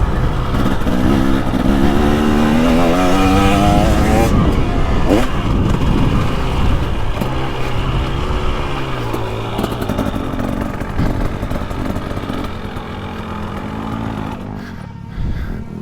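A 2023 KTM 300XC TBI two-stroke dirt bike engine runs loud and close, its pitch rising and falling through repeated revs before settling toward a steadier idle near the end.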